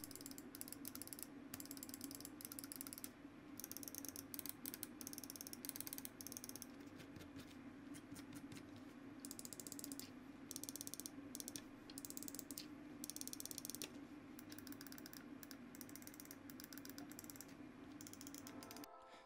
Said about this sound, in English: From this sound and switch test, if you're someone that's looking for a little more clacky mouse, then the Aerox 3 and 5 offer that.